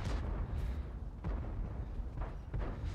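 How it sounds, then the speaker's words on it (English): Tank cannon fire in World of Tanks from an M41 90 GF, several booming shots spaced about a second apart over a constant loud engine rumble. "I'm going to try and put a shot into him, but however, snapshot it, does not connect."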